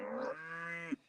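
A single cow on a farm gives one clear, close moo. It starts strong, holds a steady drawn-out tone and ends with a short upward grunt, heard alone in a quiet setting.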